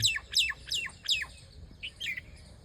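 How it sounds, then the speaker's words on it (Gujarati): A dove calls repeatedly at dawn in open village fields near Botad, a series of clear, fairly close notes in a steady rhythm followed by a couple of softer calls, with no voices. "એક હોલી અહીં છે"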